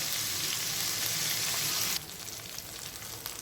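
Tomato pieces fry in oil with a dense, steady sizzle that drops abruptly to a softer crackle partway through, heard up close with no voices.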